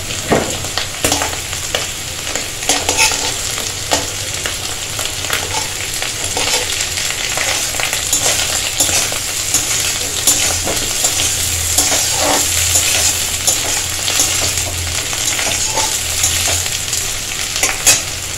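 Fish fries in hot oil with bay leaf, dried chilli and a little cumin, added after lightly fried potato, giving a steady loud sizzle with frequent scraping stirs of a utensil against the pan and no talking.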